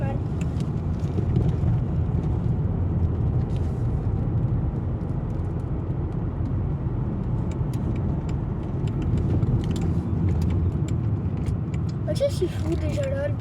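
A bus engine rumbles steadily as it passes nearby on a street, a broad low drone holding for several seconds under chatter from people talking close by.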